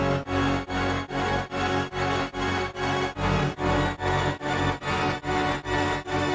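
A UK drill beat melody layers a pitched-up copy of the sample over the original, pumping in a tight rhythmic sidechain pattern of short repeated swells, loud and dense with no voices.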